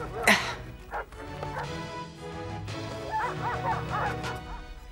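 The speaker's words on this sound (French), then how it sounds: "J'entends les chiens." A dog yips and barks in short bursts, with whimpering, whiny tones in between, fairly close.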